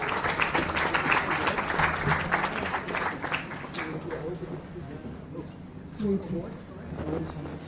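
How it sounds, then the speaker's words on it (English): An audience at a sanitation awards ceremony applauds to welcome a government minister; dense clapping fills the opening seconds, then thins and fades under a mixed crowd murmur and voices. "please welcome the Honorable Minister, Sri Suresh Prabhuji, with a round of applause"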